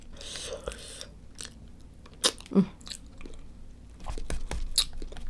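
Fufu is eaten close to the mic with wet chewing and smacking sounds, a couple of distinct bites in the middle, and faint talk in between.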